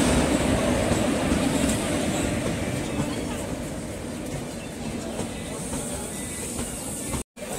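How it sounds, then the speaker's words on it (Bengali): A train rumbles and hisses steadily through a station, the noise easing slightly over time, while people talk nearby. "ওই যে ট্রেন চলে এসছে।"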